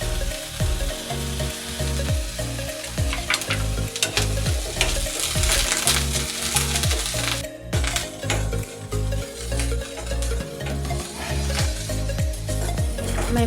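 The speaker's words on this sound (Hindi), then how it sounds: "मैं मूंगफली दाने को भून लेती हूँ।" Washed peanuts roast in a pan over a gas flame, crackling and popping steadily while being stirred, with occasional scrapes of a utensil against the metal and a loud, close, continuous sizzle.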